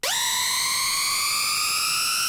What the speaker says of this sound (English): this sort of power drill sounding synthesizer that I made in Serum